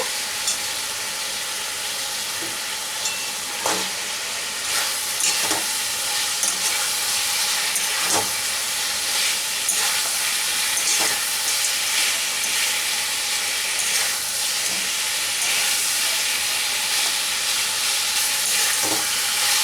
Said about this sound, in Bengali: মুড়োটা দিয়ে একটু কষিয়ে নেব।